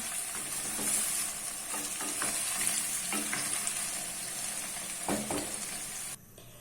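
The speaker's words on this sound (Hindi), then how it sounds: "अरवी को मैंने मीडियम टू लो फ्लेम पे जो है वो फ्राई किया है।" Pieces of arbi (taro root) fry on a medium-low flame with a dense, steady sizzle and occasional stirring scrapes. The sizzle drops away abruptly just before the end.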